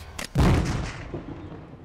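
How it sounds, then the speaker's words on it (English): An anti-tank mine detonates in a military video game, a sudden heavy blast preceded by a couple of sharp cracks, then a rumbling decay fading over a second and a half. "The explosion is not very large at all, surprisingly. Even though it looks rather big, it's a focused explosion."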